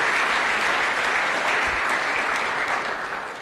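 Audience at a talk on megatrends and security applauding as a guest comes on stage, a thick, loud roar of clapping from many hands that tapers off slightly at the end.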